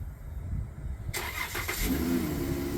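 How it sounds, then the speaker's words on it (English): A 2014 Chrysler Town & Country van's engine starts by remote start, with an abrupt broadband crank that settles into a steady, nearby idle hum, heard alone. "Hit this twice. Remote start."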